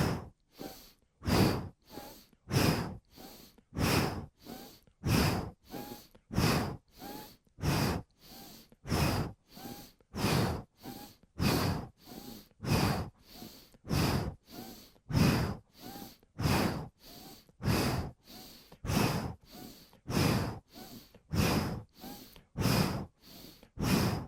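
Deep, forceful breaths in and out during yoga twists repeat in a steady rhythm, about one breath per second, close and clear with no talking.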